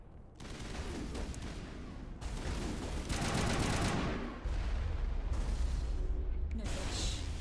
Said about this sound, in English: Garrus, I heard you using that sniper rifle.